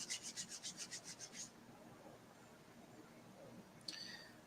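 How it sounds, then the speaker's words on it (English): Palms are rubbed briskly together in a rhythmic burst of about ten quick swishing strokes, then things go quiet apart from a faint murmur, with one brief rub near the end. "I invite you guys to get your energy going and flowing by rubbing your hands together."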